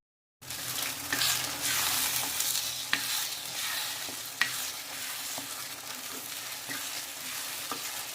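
Mustard seeds crackle and sizzle in hot oil in a pan, a steady frying hiss with scattered sharp pops spread over several seconds, no voices.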